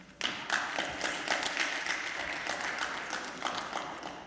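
Applause fills the room as a session is brought to a close: dense, sustained clapping from a gathered audience that starts abruptly and stays steady, with no voices over it.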